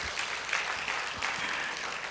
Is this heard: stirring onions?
no